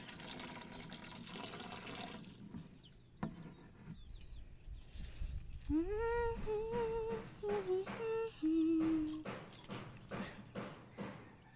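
Water runs from a tap in the first few seconds, then gives way to rooster crows and bird calls rising and falling over outdoor background noise.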